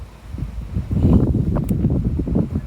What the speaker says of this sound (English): So it's kind of windy out here.